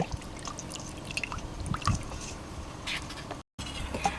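Chicken liver is rinsed under a running kitchen tap, heard as a soft, steady splash and trickle of water with faint drips and a brief dropout near the end.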